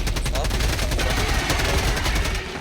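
Dense, continuous automatic gunfire from a Helldivers 2 firefight, loud and close with rapid overlapping shots that run steadily for the whole stretch.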